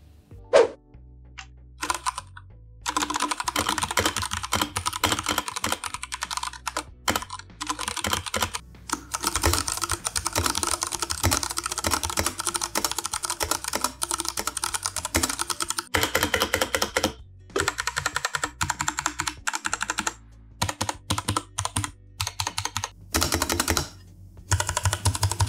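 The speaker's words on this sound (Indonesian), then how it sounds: "untuk sound test sekarang gua akan share aja langsung ke kalian berikut untuk yang versi Gateron Red dan juga untuk yang versi Gateron Brown" Pressplay Voyager68 mechanical keyboard fitted with Gateron Red and Brown switches, typed on continuously in a steady stream of close, crisp keystrokes, with a few brief pauses and no talking.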